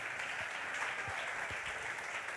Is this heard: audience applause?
yes